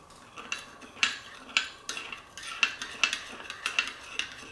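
A metal utensil scrapes and clinks against a bowl while olive oil is stirred into cut potatoes for roasting with rosemary, garlic and onions, giving about a dozen close, crisp taps in an irregular rhythm with no talk.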